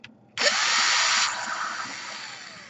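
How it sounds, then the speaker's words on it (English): After a brief click, a power screwdriver whirs up sharply and runs steadily, then eases off while removing a screw from an Asus X54L/K54L laptop during DC power jack repair; close and alone, no talking. "Let me unscrew this screw right here,"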